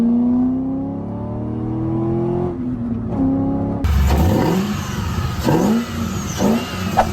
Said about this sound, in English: Now I'm really happy with this cold air intake because it sounds really good, like you just heard.